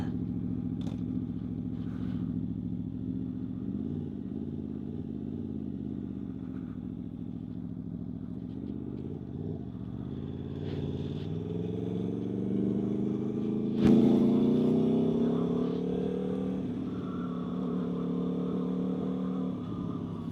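A 2026 Aprilia V4 motorcycle engine drones steadily while riding, its pitch climbing and falling with throttle changes and swelling louder for a moment mid-ride.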